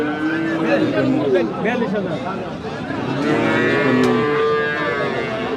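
Sahiwal cattle low at a busy livestock market, drawn-out moos rising over a steady crowd murmur and nearby voices talking.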